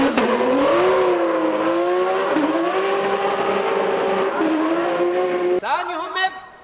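A Toyota GR Supra with a 3UZ V8 engine drifting at full throttle in competition, its engine holding a loud, sustained high-rev wail with slight pitch dips, then a sharp burst as the note shifts near the end.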